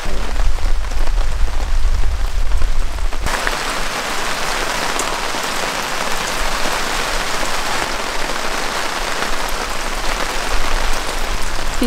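Steady heavy rain pours down at a campsite in a dense, continuous hiss, loud and close, with no voices.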